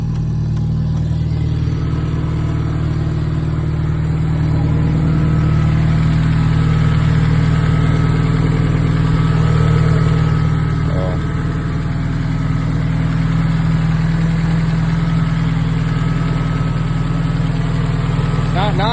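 Nissan S14 engine idling with an open downpipe, a steady deep rumble with faint clicking, loud and continuous for the whole stretch while people talk over it.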